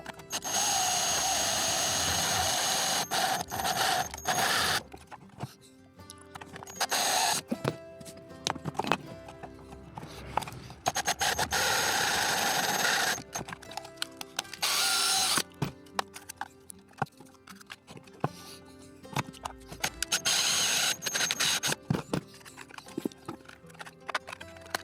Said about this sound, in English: do the deadly thing of drilling a hole in the side of the van.